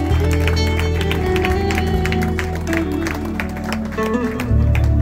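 A church congregation at a French-language gratitude night service cheers and applauds, a loud sustained wash of clapping and crowd voices with music underneath.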